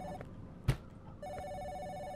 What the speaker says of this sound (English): I'm surprised I could hear the phone from out there